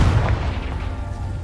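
A Confringo blasting spell explodes in the Hogwarts Legacy video game: a heavy, deep boom at the very start that rolls into a sustained low rumbling tail, with no voices.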